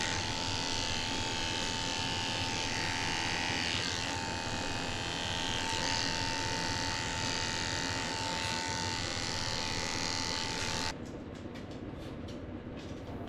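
Electric clippers fitted with a 10 blade shave the inner ears of a senior Shih tzu mix at a groomer's, a loud continuous close buzz that drops to a quieter hum near the end.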